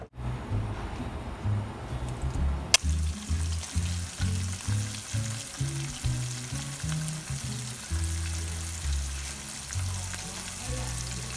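Continuous crackling and bubbling of chicken wings deep frying in hot oil, steady and close, with a brief sharp clink early on.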